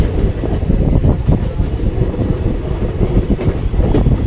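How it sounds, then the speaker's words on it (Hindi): Dense, loud rumble of the Vindhyachal Express passenger train rolling out of a station, a continuous roar with rapid wheel clatter and rattling cars, close up. "पूरी ट्रेन बाहर आ चुकी है।"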